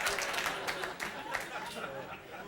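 A studio audience at a late-night talk show breaks into applause and cheering, a broad wash of clapping mixed with crowd voices that slowly thins out.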